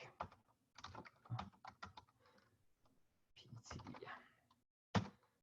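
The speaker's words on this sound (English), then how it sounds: "I'm typing in here" Quiet computer keyboard typing comes in short bursts of soft clicks with pauses between them, faint and close, ending with one sharper tap.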